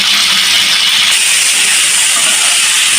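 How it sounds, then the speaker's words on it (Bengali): Cauliflower and potato pieces fry in hot oil in a pan for a cauliflower and rohu fish curry, giving a loud, steady, close-up sizzling hiss that never lets up. "এই যে ফুলকপিগুলো ভাজতে দেওয়া হয়ে গেল। ফুলকপি আলু দিয়ে এভাবে তারপরে ভেজে নিচ্ছি"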